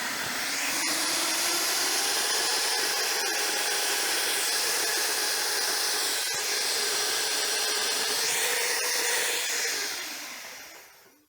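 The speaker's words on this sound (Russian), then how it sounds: "В данный момент коронка уперлась в арматуру," A KEOS KS-350 diamond core drill bores through rebar-reinforced concrete, its crown bit pressing against the steel bar. The motor and grinding hold as a loud, steady, close whine for about ten seconds, then taper away at the end.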